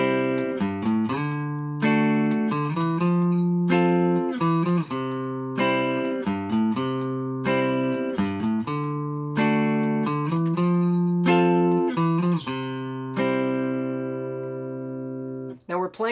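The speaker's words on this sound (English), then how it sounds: "I've taken that piano part and arranged it for guitar, and this is how I would play it" Guitar arrangement of the piano part of a song, played as rhythmic strummed chords with a bouncy, steady groove, close and continuous, ending with a ringing chord.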